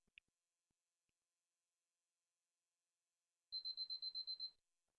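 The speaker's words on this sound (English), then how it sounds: "Sorry, that was my timer." A timer alarm beeps in a quick run of about nine even, high-pitched electronic pulses lasting roughly a second, sounding close and fairly loud against an otherwise silent room.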